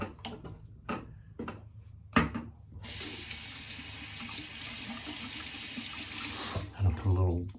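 Water running from a tap onto a synthetic badger hair shaving brush head, a steady close hiss that starts partway in and continues for several seconds, with speech before it.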